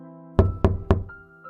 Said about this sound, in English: A soft knock sounded at the door.